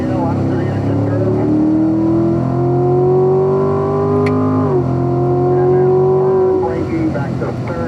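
A Corvette Stingray on a race track at full throttle, its engine note loud and close, climbing steadily in pitch through a long pull, with a brief dip partway through and a voice talking over the roar.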